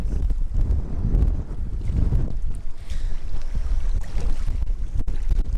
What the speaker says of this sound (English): Just a little bit windy out here at Round Valley Reservoir.